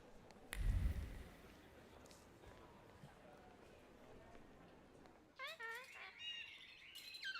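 A small bird chirps in quick, bright, close bursts over the last couple of seconds, following a heavy low thump and a stretch of quiet rustling background.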